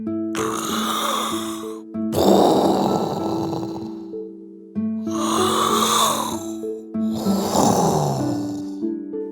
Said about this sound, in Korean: 정신없이 코를 골며 잠든 야수를 보자